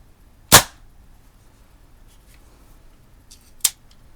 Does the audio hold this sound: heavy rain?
no